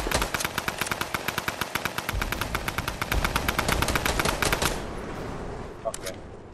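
Rapid automatic gunfire in a video game as players shoot at metal enemies, a dense loud burst of shots for about five seconds that then stops, with a couple of faint later pops and players talking.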